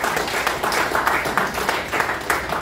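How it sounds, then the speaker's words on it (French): An audience at a JCI Conakry event in Guinea applauds the Jeune Chambre Conakry Lumière, a dense, sustained round of clapping from many people, fairly near and continuous. "je vous demande d'applaudir fortement la Jeune Chambre Conakry Lumière pour cette belle"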